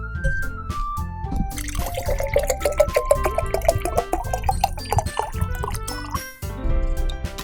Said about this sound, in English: I need to refill my water.